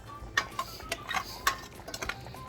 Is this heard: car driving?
no